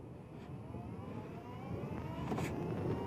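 A 2024 Kawasaki Ninja 7 Hybrid motorcycle rolls along in full electric mode, a quiet whir with rising road and wind rush that grows slightly louder, no talking.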